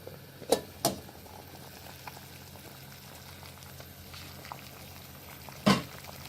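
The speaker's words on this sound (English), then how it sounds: "so as you can see, it's still boiling" Water with corn on the cob bubbles steadily at a low, gentle level in a pot, with a few sharp clicks and pops rising above the simmer.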